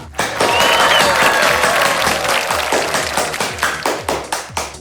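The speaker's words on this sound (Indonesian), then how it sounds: "Beri tepuk tangan yang meriah untuk penampilan dari kelas 10A." An audience at a school Ramadan paired-fashion contest applauds class 10A's performance, a loud, dense burst of clapping that thins into separate, spaced claps as it dies away.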